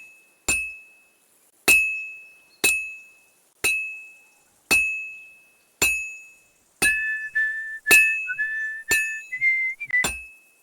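A character in Kingdom Come: Deliverance II whistles a short wavering tune that enters midway, over a steady series of ringing metallic hammer strikes about one per second, close and clear.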